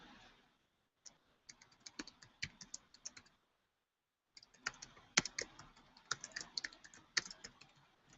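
Clicky typing on a computer keyboard comes in two bursts of uneven keystrokes separated by a second of silence, close and fairly quiet, with occasional harder taps standing out.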